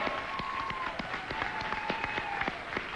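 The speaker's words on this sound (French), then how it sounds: "On peut les applaudir, notre gang?" A studio audience at a French-language Sunday television variety special applauds steadily, dense clapping filling the room with a sustained held tone from music underneath and a few cheers.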